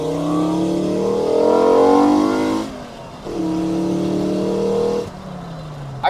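A mk2 Golf GTI with a swapped 5-cylinder engine accelerates hard from a rolling start in second, its loud close engine note climbing steeply, dropping briefly at a gear change, then rising again before easing off.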